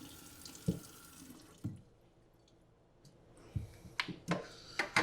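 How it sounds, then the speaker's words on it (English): Water from a sink tap runs and splashes in bursts while a suede chukka boot is wetted and rinsed, with gurgles, drips and a quieter lull in the middle, heard close with no talking. "let the excess water drain out of the boot or the shoe"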